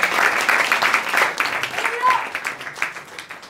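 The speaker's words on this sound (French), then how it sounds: "On peut l'applaudir bien fort" An audience at an improv-under-hypnosis show at a festival applauds a performer: a sustained round of many hands clapping, loud at first and gradually thinning toward the end, with voices audible beneath.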